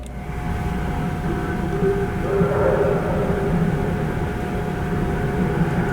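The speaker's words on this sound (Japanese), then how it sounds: "横浜駅を発車" Inside the Sunrise Seto overnight sleeper express bound for Kotohira, just after leaving Yokohama station: a steady, low rolling rumble of the moving train with a constant hum, even and unbroken throughout.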